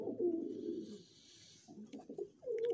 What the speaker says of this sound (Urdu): نیا کبوتر ہے تو کول بھی نہیں سکتے ابھی